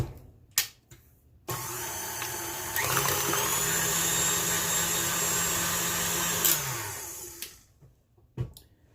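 An electric mixer whirs through frosting with heavy cream added, starting abruptly and running as a steady, loud high whine, then rising in speed for several seconds before spinning down and stopping.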